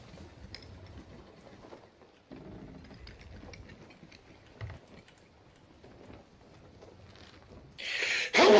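A single loud, close sneeze bursts out near the end, following quiet ambience from a Sea of Thieves game session.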